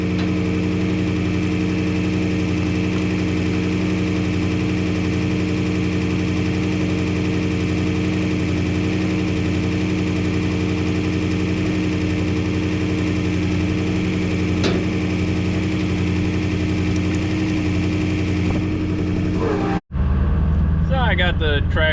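A farm tractor idles at the fuel pump with a steady, droning engine hum that stays even and close for about twenty seconds, then cuts off abruptly.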